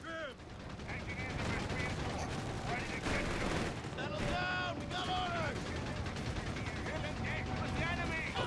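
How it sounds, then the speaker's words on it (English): Anti-tank gun shots and gunfire in the real-time strategy game Company of Heroes 3, dense and continuous with repeated sharp reports and in-game effects layered over a busy battlefield, with a commentator's voice running throughout. "AT gun gets a good shot on the AT half track."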